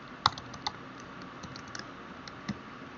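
Computer keyboard typing while writing code, sparse individual key clicks and taps scattered over a quiet room hum, close and soft, no speech.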